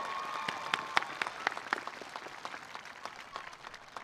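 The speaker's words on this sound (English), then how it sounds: "Can we get one more round of applause for Kenneth and Soul Station?" An audience at a high school graduation ceremony in 2023 claps and applauds continuously, with some sharp individual claps standing out early before the sound thins toward the end.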